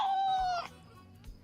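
A cat gives one drawn-out, clear meow close by, fading after about half a second, followed by faint low shuffling and quiet room sound.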